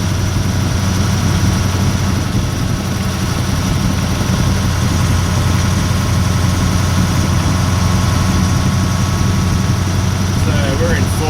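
Perkins V8 540ci diesel engine of a Leyland Mastiff truck running steadily in fourth gear, heard from inside the cab as a continuous loud low rumble with vibration, talk over it.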